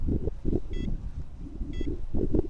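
Two short electronic beep bursts from a Cheerson CX-20 quadcopter drone, about a second apart, sound over wind buffeting and low rustling.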